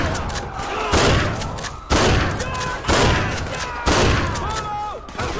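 Gunfire in the police game GTA V with the LSPDFR mod during a meth lab raid: four loud, sharp bursts of shots roughly a second apart over a busy background of game sound effects.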